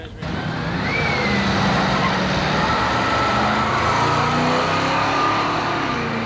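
A 1932 Ford and a 1930 Ford drag race at Carlsbad Raceway, their engines roaring loud and steady from the start, with rising revs carrying through the whole run.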